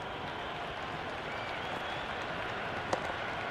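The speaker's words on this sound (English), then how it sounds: "There's an almost tangible fervour throughout the crowd at the moment." A stadium crowd in the Cricket 26 video game during a Pakistan versus England match keeps up steady, broad applause and crowd noise at a moderate level, with one sharp tap near the end.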